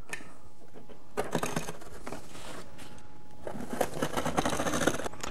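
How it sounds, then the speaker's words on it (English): A blade cuts slots into cardboard in two bursts of scraping, rasping strokes separated by a short pause, fairly close and at moderate loudness. "May take a couple of times through the cardboard, but cut each one out."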